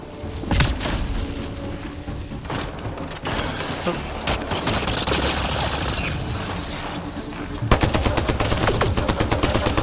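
A heavy-class enemy's big gun blasts away during a firefight in Mass Effect Andromeda: loud, rapid bursts of automatic gunfire with booms and shrapnel-like cracks, pausing briefly and then resuming as a dense, fast stream of shots.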